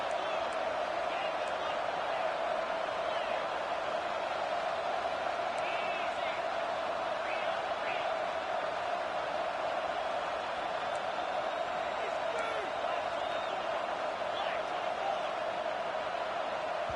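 Stadium crowd in a college football video game roaring loudly, a constant dense wall of noise with faint whistles and shouts throughout, no clear breaks.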